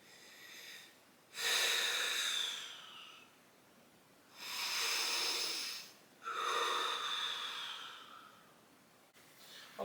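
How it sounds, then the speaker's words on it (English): Deep breathing during a core exercise routine: three slow, loud breaths, each a long airy hiss lasting over a second, spaced a few seconds apart with quiet between, and no talking. "I'm going to take a deep breath."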